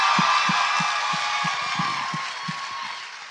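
A live theatre crowd at the Sony Centre in Toronto applauding and cheering, a loud dense wash of clapping and whoops that fades slightly toward the end.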